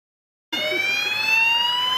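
A brand-new medical ambulance for a rural health centre in Benin sounds its siren, a loud, close, steady wailing tone that starts abruptly after a moment of silence and holds without a break.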